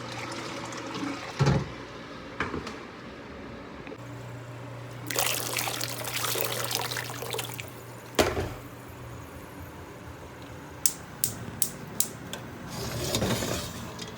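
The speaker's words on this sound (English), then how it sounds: "adding my hot water here" Hot water pours and trickles in bursts over chopped lemon, a steady splashing stream mid-way over a low hum, with a few sharp clinks and a final trickle.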